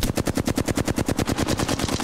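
Rapid automatic gunfire in a ranked multiplayer shooter, a steady fast stream of loud, evenly spaced shots running unbroken for about two seconds.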